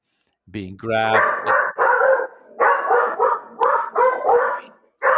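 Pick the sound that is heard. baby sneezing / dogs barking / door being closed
dogs barking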